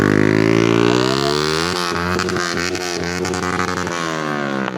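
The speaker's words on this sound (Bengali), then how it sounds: "ফাইনালি ডিপি কিলার খোলা শেষ, এটা জাস্ট মজার জন্যই। তো আপনারা সাউন্ডটা শুনেন।" A motorbike runs with its exhaust DB killer removed, loud and close, its deep harmonic drone rising in pitch and then breaking into rapid popping, stuttering revving toward the end.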